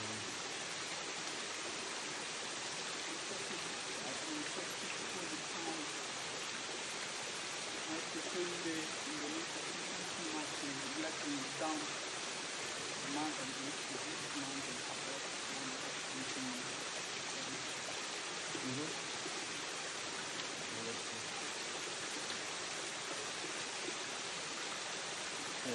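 A waterfall pours in a steady, dense broadband roar that holds evenly throughout, loud and close with no breaks.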